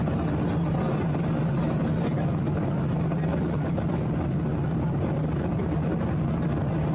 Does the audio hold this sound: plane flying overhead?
yes